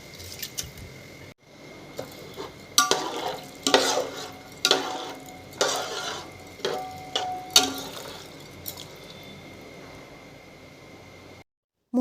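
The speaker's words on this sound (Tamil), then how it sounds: "அரிசியும் தோல் உளுந்தும் தண்ணி இல்லாமல் வடித்து ஆட் பண்ணிக்கோங்க." Drained rice and black urad dal tipped into a cooking pot and stirred, giving a series of rough scraping, wet-grain rustles that come in regular strokes, close and fairly loud, with no voices.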